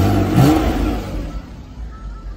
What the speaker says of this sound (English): Give a little rev for you.